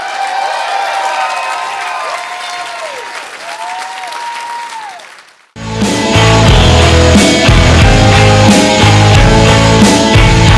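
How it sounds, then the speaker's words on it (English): A casino show audience bursts into loud, sustained applause and cheering after a quieter musical passage, with dense clapping filling the rest of the clip. "A big round of applause for Lacey for making this all happen."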